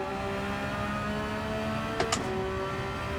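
A race car engine in a sim racing video game drones steadily at a constant pitch, then gives a brief sharp rise with a couple of quick high blips as throttle is applied in second gear.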